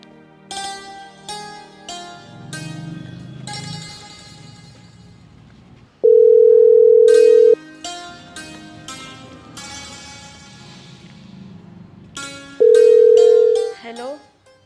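A telephone call tone sounds while placing a call at home: two long loud steady beeps, each about a second and a half, separated by several seconds of background music without speech.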